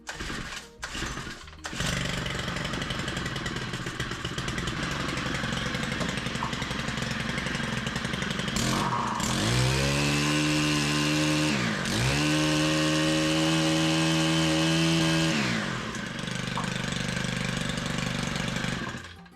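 A Stihl FS90 brush cutter with old fuel in the tank, just primed and choked, pulls over and fires up, then runs loud and steady close by, its engine revving up twice in rising sweeps before settling back to idle.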